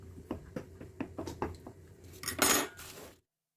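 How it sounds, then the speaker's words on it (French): A fork pricks pastry dough in a tart tin, a run of about a dozen quick, light metallic taps in a loose rhythm, close up, ending in a brief louder scrape before silence. "avec une fourchette, nous allons venir piquer la pâte"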